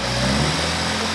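An engine idles steadily up close, a loud, even rumble with a low droning hum and no revving or speech over it.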